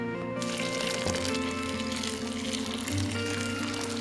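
Water is poured onto seed starter mix, a steady close wash of liquid running throughout with no talk over it.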